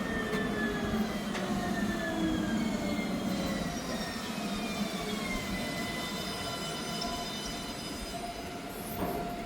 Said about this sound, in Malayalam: നമ്മുടെ ട്രാം ഇതാ ഇവിടെ ട്രാക്കിലേക്ക് വന്നുകൊണ്ടിരിക്കുന്നു